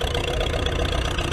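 A vintage tractor engine with no silencer, just a straight pipe, runs loud and steady at a ploughing match, its low chugging throb continuous and close with no talk over it.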